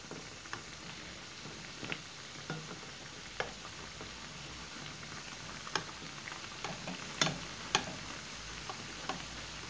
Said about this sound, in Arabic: كنرشوا الزيت وهما كيطيبوا هكا كيتحمروا مزيان من الجهتين وكيتنفخوا